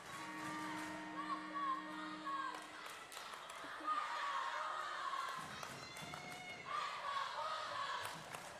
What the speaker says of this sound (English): We have a bit of a cheer and clap war here between student sections.